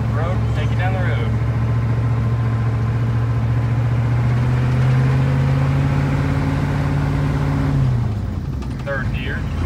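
Diesel engine of a 7.3 truck with 148,000 miles, pulling in second gear on the road: a loud, steady drone that holds its pitch, then drops away sharply near the end as the driver shifts, with speech over it.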